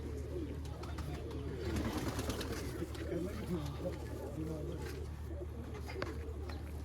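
Several domestic pigeons, white fancy birds among them, keep up a low rolling coo for several seconds while someone talks over them nearby.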